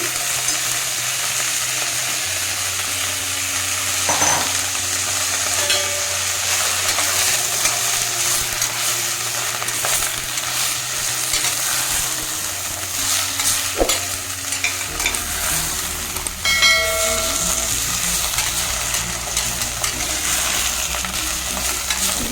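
Fenugreek leaves frying in oil in a pan with a pinch of asafoetida, a continuous close sizzle with occasional stirring scrapes and clinks, steady and fairly loud throughout.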